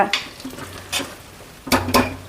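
Close, loud sizzle of ghee tempering with grated ginger, cumin, curry leaves and dried chillies, broken by sharp bursts of crackling and spatter, with light stirring between, no talk.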